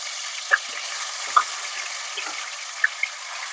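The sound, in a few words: chicken frying in hot oil for butter chicken curry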